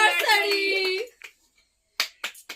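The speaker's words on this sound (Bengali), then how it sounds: "সবাই হাততালি দাও" At a family anniversary celebration, a voice speaks first, then a short pause, then a few quick, close hand claps in a brief scattered burst.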